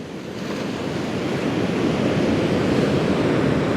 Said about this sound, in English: We've had some absolutely stunning, huge waves, but they're not consistent.